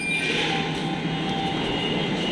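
Inside a Hyderabad metro train while it runs, a loud steady rumble and rolling hum with faint whine tones, continuous and close, with no talk.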